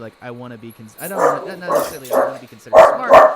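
A dog barks twice in loud, close bursts near the end, breaking in over a person talking steadily throughout.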